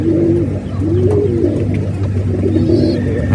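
Pigeons in a loft coo in low, rolling repeated calls, loud and close, one bird overlapping another across the whole stretch with faint background hum and no talk.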